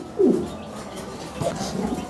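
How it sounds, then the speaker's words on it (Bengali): A single fancy pigeon, a hen, gives a low throaty coo near the start, then a fainter second coo, close by over a quiet background. "সুপ্রিয় দর্শক দেখতে পাচ্ছেন এখানে একটা সিঙ্গেল কবুতর"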